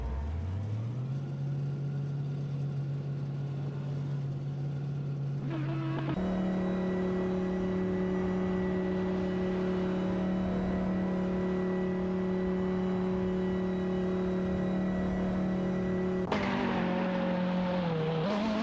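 Racing game cars, a McLaren MP4-12C GT3 and a Renault Sport RS 01 GT3, with steady high engine whines that climb in pitch and then hold through long sustained pulls, loud and continuous, with one sharp drop in tone near the end.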